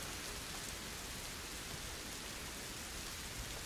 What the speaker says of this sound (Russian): На улице дождичек.